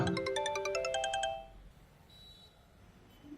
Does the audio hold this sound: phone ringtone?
yes